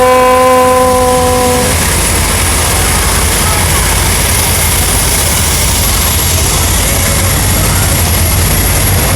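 A steam locomotive from the World War II era sounds its horn for a couple of seconds at a station in Thailand, then a loud, steady rumble of the train pulling away from the platform continues close by.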